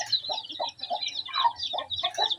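A large mother hen clucks close by in short, choppy bursts of calls, loud and uneven, with no talking over them.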